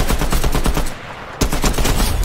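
NPCs firing guns in a squad shooter video game, rapid automatic bursts loud and close in a dense rattling stream, briefly pausing for under half a second before resuming, with no talking.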